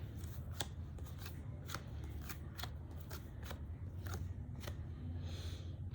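Tarot cards being shuffled and dealt one by one into a row, giving a run of quiet, crisp snapping flicks at a steady pace over a low background hum.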